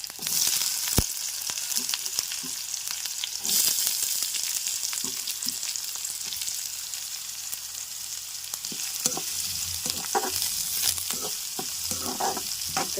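Steady, loud crackling and popping of mustard seeds, curry leaves and fenugreek spluttering in hot oil, with sharp pops scattered throughout and no talking.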